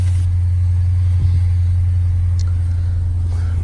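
A 2019 Dodge Challenger Scat Pack engine idles nearby, a loud, steady, deep rumble that stays even throughout with no voices.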